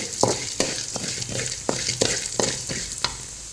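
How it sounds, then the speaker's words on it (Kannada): Coriander seeds fry in a pan for a brinjal curry, giving a steady crackling sizzle broken by regular sharp scrapes of a spoon stirring, about every half second, close and alone. "ಆಮೇಲೆ ಒಂದು ಮೂರು ಚಮಚ ಕೊತ್ತಂಬರಿ ಹಾಕಿ ಚೆನ್ನಾಗಿ ಫ್ರೈ ಮಾಡಿ"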